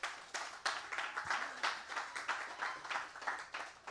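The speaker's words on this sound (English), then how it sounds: "Give him a round of applause." A town hall meeting audience applauds for a speaker, giving a steady round of clapping that pulses in uneven waves. The clapping is moderately faint and fills the room with no other sound over it.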